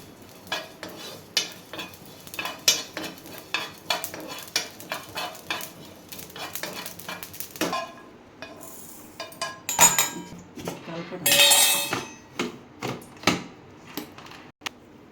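Mango pickle is mixed with salt in a bowl, giving repeated scraping, stirring and clinking of a spoon against the dish. The strokes are close and uneven, with a brighter rattling burst near the end.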